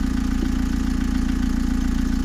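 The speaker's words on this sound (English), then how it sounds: "Now the engine's noisy obviously because the engine lid's off, so it's basically in the van with us." A Volkswagen TDI diesel engine idles inside a van with its engine lid off, giving a loud, close, steady rumbling drone with an even rhythmic throb and no talking.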